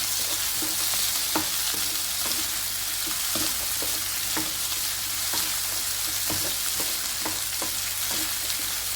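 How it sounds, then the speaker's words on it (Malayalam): Chopped tomato sautés in a pan with boiled potatoes for a Kerala-style potato perattal. A steady, dense sizzle continues throughout, punctuated by occasional spatula taps and scrapes. "അതും കൂടി ഇട്ട് നന്നായൊന്ന് വഴന്നിടേകട്ടെ"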